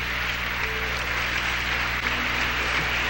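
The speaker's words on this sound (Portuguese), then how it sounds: "Dê um aplauso a Jesus, igreja." A church congregation applauds during a worship service, a steady broadband wash of clapping that runs the whole stretch at even loudness with no voices standing out.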